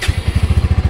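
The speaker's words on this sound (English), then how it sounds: "It's got a nice bassy exhaust." A 2024 Bajaj Pulsar N150 E20 motorcycle idles up close, its exhaust giving a deep, bassy, evenly spaced thumping that repeats rapidly and steadily.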